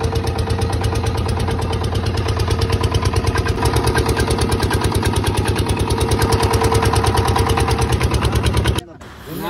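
A small motor boat engine on the Brahmaputra river runs in a loud, close, rapid steady putter, then cuts off abruptly near the end.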